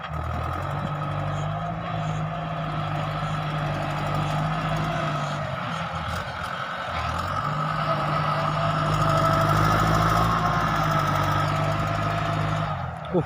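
A truck engine runs steadily as it reverses to dump laterite at a stockpile, a loud continuous rumble and diesel knock that dips briefly midway, then builds again.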